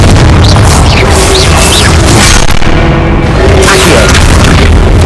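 Booming fire-spell blasts from Hogwarts Legacy on PS5, loud and continuous amid dense game noise with crashes and a spoken incantation voice over the din.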